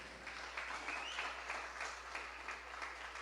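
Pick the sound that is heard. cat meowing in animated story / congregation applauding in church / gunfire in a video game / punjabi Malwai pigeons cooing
congregation applauding in church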